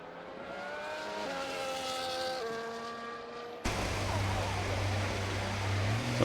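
F1 race car lapping Circuit de Barcelona-Catalunya during practice in a racing video game, its engine whining steadily up through gear changes, then a sudden louder, rougher burst of engine noise as the car passes close.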